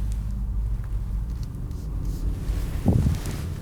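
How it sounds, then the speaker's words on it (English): Cabin of a 2021 Audi RS Q8 on the move, a steady low engine and road rumble with wind noise around it, and a brief thump near the end as it rolls over a bump. "So right now we're gonna start driving the RS Q8."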